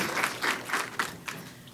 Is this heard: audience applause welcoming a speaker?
yes